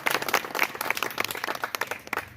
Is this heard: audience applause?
yes